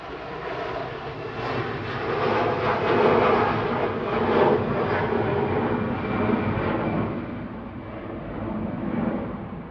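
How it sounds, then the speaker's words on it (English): Airliners taxi at Manchester Airport, their jet engines producing a sustained, distant rumbling drone that swells and eases gently, with no one talking over it. "It's like Cathay is making its way in now that the Qatar is making its way out."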